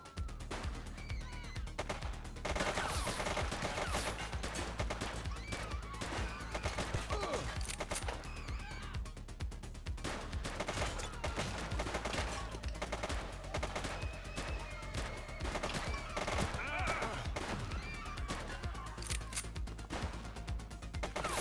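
Dense, sustained gunfire from a police shootout in the video game The Precinct, with rapid bursts and overlapping shots running nearly continuously at a loud, steady level.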